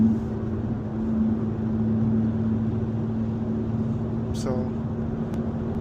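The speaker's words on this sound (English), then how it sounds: "right now I'm just cruising, just letting the car get to closer to temp." A BMW M3 on the G8X platform cruises while warming up, giving off a steady low engine drone close by, with a brief voice heard once.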